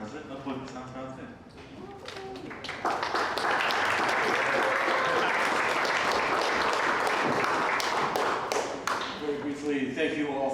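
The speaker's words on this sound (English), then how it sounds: "Thank you, Alan, and give Alan another round of applause, please." A large crowd at a poetry reading bursts into sustained applause after brief talk, steady dense clapping that stays loud for several seconds before fading back toward voices.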